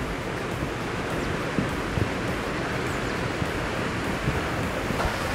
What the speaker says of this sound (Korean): 2단 폭포야, 2단 폭포.